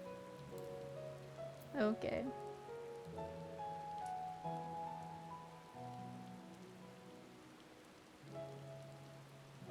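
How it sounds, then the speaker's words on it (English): Steady rainfall hisses across a Final Fantasy XIV game world, a soft continuous wash under sustained musical tones, with a brief spoken word partway through. "Pouring rain."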